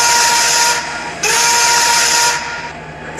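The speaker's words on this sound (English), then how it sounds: "Suddenly, an old steam whistle sounded out." A shrill, hissing steam whistle blows in two long blasts separated by a brief break, loud and close, fading at the end.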